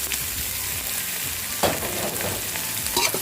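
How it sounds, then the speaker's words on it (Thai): Mussels hit a hot pan with fragrant chili and garlic for a Thai stir-fry, sizzling loudly and steadily throughout, with a few sharper crackles and stirring scrapes near the middle and end. "เมื่อพริกกับกระเทียมหอมแล้วนะคะ ก็ใส่หอยแมลงภู่ลงไปได้เลยค่ะ"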